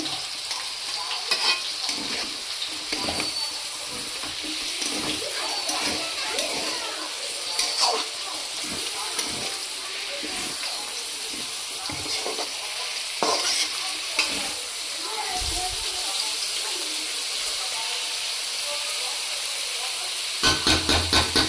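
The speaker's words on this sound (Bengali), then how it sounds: "একটু তেল দিয়ে ভালো করে ভাজা ভাজা করবো" Kalai (pea) greens sizzle and crackle steadily in hot oil in a karahi, with intermittent scraping stirs against the pan, close and continuous throughout.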